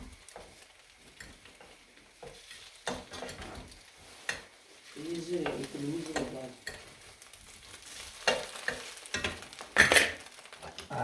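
An omelette sizzles steadily in a hot pan, with occasional scraping and stirring sounds and a brief clink of utensils, close and moderately quiet.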